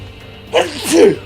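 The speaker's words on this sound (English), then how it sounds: "And I had to sneeze." One person sneezes close up: a quick sharp intake followed by a loud, voiced burst, all within about a second.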